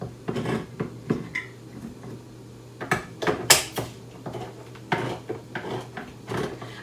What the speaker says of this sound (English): So I'm going to get these cans opened and then toss both of these in undrained.